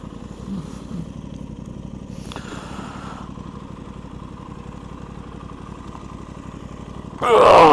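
Aprilia RS660 motorcycle engine running at a low, steady pulse while riding, close to the mic, with brief rattles and a sudden burst of wind roar at the end.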